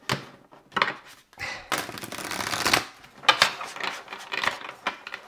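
Large, thick cards being shuffled up close, in several short bursts of sliding and riffling with brief pauses between them, no voices.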